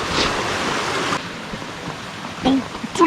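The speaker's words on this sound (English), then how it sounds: "A waterfall." A waterfall on the trail to Switzer Falls rushes steadily for about a second, then drops to a softer wash of flowing water while a voice briefly speaks near the end.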